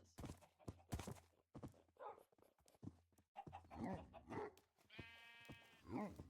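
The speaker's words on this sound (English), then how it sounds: "I don't know why these camels sound like they're growling." Camels in the video game Forever World let out rough, growl-like bleating grunts, several short calls spread across the moment, one with a strained tonal rasp, moderately near with some soft sounds between.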